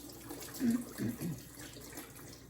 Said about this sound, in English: I'm going to swish it around because I'm getting ready to soak them